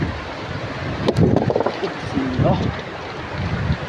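Fast, dangerous floodwater rushing and surging past rocks, a steady broadband roar with wind buffeting the microphone, while someone talks over it nearby.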